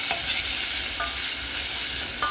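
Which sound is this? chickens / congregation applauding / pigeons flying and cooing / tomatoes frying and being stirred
tomatoes frying and being stirred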